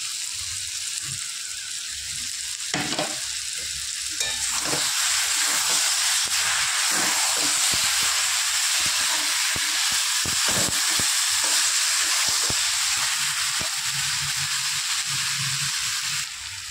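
Ground cumin, chili, turmeric and meat masala are fried down in a pan for a mrigal fish curry, making a steady, moderate hiss with occasional stirring clicks and scrapes, close by and with no one talking.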